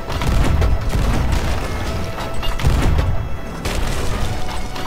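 Cannon fire traded between ships in the pirate game Sea of Thieves: loud, booming blasts and crashing impacts come in a dense, continuous barrage, close and heavy, with no clear pauses.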